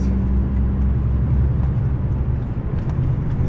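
A car cruising along a fairly smooth country road near Mantova in rural Italy, with a continuous low rumble of engine and tyres and a few faint ticks and knocks.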